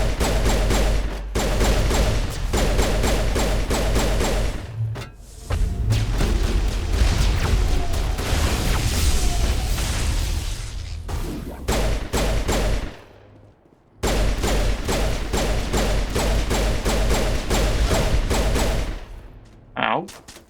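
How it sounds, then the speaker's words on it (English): Enemy rockets strike the player's shields in Mass Effect Legendary Edition, a dense, loud barrage of rapid gunfire and explosive booms filling nearly the whole stretch, with brief gaps of near silence between bursts. "His rockets pierce my shields."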